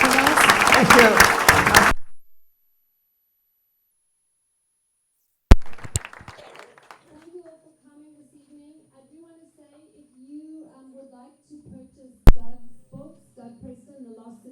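Audience applause at a book event at Collected Works Bookstore, a dense burst of clapping for about two seconds that cuts off abruptly, followed by silence and then a voice talking quietly.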